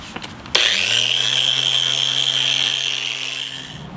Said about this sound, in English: this right here is a 320 grit, and I'm now gonna go over the entire wheel